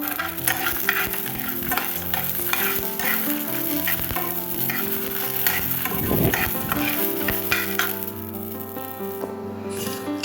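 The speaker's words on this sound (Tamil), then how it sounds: "பூண்டு கொஞ்சம் லைட்டாக வதங்கினா போதும்" Garlic and curry leaves sauté in a pan for a Tamil pepper-cumin kuzhambu, a continuous close sizzle broken by repeated stirring and scraping strokes, with no one talking.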